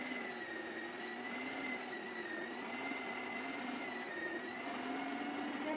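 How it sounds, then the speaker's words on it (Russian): A meat grinder minces feijoa through a fine grate with a steady, close motor whine and grinding hum that holds constant throughout, with no voices. "я буду прокручивать через мелкую решетку в мясорубке"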